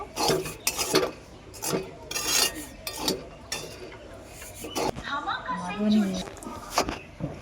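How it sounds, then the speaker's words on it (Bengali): A spatula scrapes and stirs grated coconut around a pan in short, irregular strokes, with someone talking intermittently. "নারকেলটা একটু ভাজা ভাজা করে নেব"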